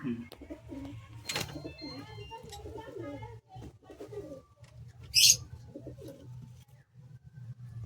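Low, pulsing coos from bloodline pigeons in a loft, including a paired Fulsura and Pulsar hen, run beneath someone talking nearby, with a sharp high chirp midway.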